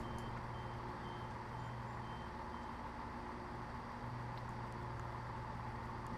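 Train Simulator Classic passenger train with door-opening warning beeps, a steady repeating tone set over a constant loud hum of the idling train and its ventilation, with no talking.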